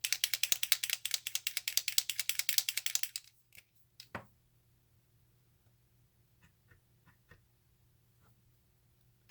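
A Posca paint pen is shaken hard, its mixing ball rattling in a fast rhythmic burst for about three seconds, then a few faint isolated clicks follow in near silence.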